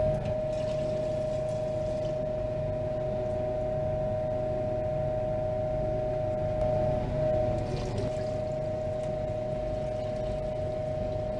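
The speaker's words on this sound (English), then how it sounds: "We're going to take the solution and pour it into this beaker." Gold solution from computer scrap refining being poured into a beaker, a continuous watery trickle under a steady mechanical hum and tonal whine, lasting over ten seconds with no talking.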